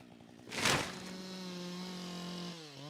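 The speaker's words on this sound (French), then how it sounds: "À la tronçonneuse, Mike est navré par l'ampleur de la tâche." A chainsaw revs up loudly, then holds a steady high-pitched engine drone while cutting dead trees, easing off slightly at the end.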